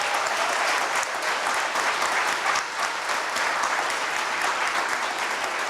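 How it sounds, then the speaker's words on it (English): An audience at an education event on graduation rates for boys of color applauds its superintendent, a dense, steady wash of clapping that holds loud and even for several seconds with no voices over it. "Hey, one more round of applause for our superintendent,"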